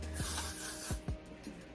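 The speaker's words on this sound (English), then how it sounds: "Spray the braids." Hairspray misted onto braided hair in a few short hissing bursts from an aerosol can, close and fairly quiet, separated by brief pauses with light handling rubs.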